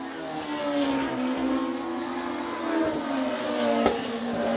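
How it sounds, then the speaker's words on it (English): NEMA Midget race cars circle the track in the final lap of a race, their engines droning loud and steady with rising and falling whine as cars pass, crowd-level ambience beneath. "Very unusual for the NEMA Midgets here this afternoon with 1 lap to go."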